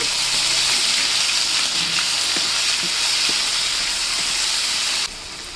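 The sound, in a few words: ginger and garlic sizzling with fried onions in pan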